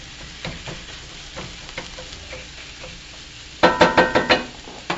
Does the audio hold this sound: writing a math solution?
no